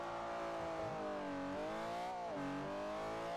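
Ferrari FF accelerating hard from a standstill to 60 mph, its engine note rising steadily through the gears with brief dips at each upshift, loud and close.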